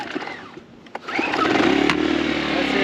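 A Sportsman Gen1000i small portable gasoline generator starts after about a second, then settles into a steady, moderately loud engine drone with a continuous buzzing hum, nearby and alone.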